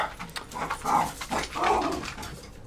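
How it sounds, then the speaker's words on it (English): Dogs whining and grumbling nearby in a few drawn-out, uneven vocal bursts, moderately loud and heard on their own. "And that's my dogs, apparently."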